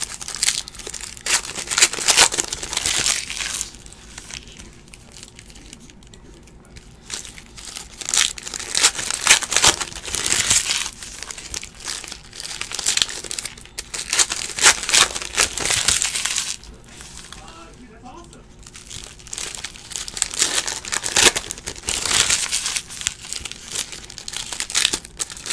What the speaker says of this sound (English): As I still open up packs of cards here.